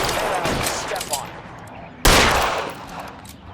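Gunfire in the video game L.A. Noire during the Nicholson Electroplating mission: a dense, rattling volley of shots, then a sharp, loud burst partway through that carries into continued sustained firing.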